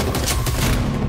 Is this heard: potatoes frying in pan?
no